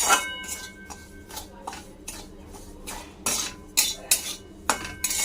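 Semolina stirred in a hot kadai, a run of rhythmic scraping strokes of a spoon against the pan, close and fairly loud, with a faint sizzle underneath.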